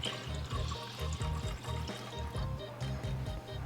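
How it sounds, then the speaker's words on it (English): A cup of filtered water is poured into a pot while fig jelly is being made, giving a bubbling, gurgling stream with uneven pulses. It sounds close and moderately quiet. "We got 1 cup of filtered water. I'm gonna add that into there."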